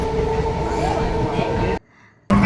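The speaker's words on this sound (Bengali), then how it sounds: "ট্রেনে উঠে পড়লাম সপরিবারে" Riding aboard a train, a steady close rumble and droning hum of the carriage fills the space, with a short drop to quiet before the noise returns.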